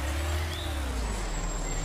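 A truck backs up in the Trader Life Simulator 2 video game, loaded with goods. Its steady, close engine rumble drones throughout, with a faint high whine above it and no voices.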